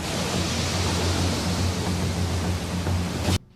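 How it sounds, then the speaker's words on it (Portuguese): A water dragon jutsu in the Naruto anime unleashes a loud, continuous rushing surge of water, broadband and steady for over three seconds before cutting off abruptly into silence. "Estilo água! Jutsu dragão de água!"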